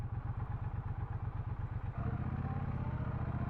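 A 2023 Triumph Bonneville Bobber twin-cylinder engine idles along steadily in second gear around town, a low pulsing thrum with a clattering mechanical tick, shifting to a slightly fuller, smoother drone partway through, with no talking.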